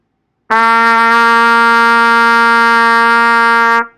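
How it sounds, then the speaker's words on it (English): A trumpet holds a single low C with no valves pressed, one steady, bright, brassy tone lasting about three seconds, loud and close, with no other sound. "So let's look at that C again."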